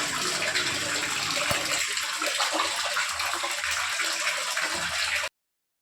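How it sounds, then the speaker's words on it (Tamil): Water running over prawns as they are rinsed in a kitchen, a loud steady splashing stream with a sharp knock early on, then cutting off abruptly. "இறால் அலசிடுவோம்"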